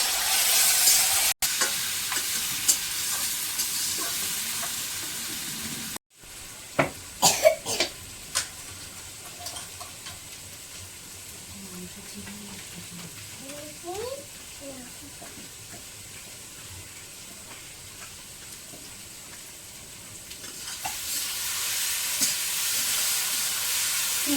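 Spices and turmeric powder fry in a pan on a double stove burner, with soft sizzling and stirring scrapes running through a long stretch and a few sharper clatters near the start.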